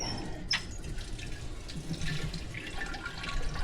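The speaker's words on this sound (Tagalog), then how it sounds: "Kuha tayong konting tubig." Steady running water from a tap, a continuous close rush with a brief bright splash near the start, filling for a water tank float valve replacement.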